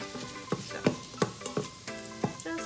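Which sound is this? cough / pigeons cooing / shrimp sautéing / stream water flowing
shrimp sautéing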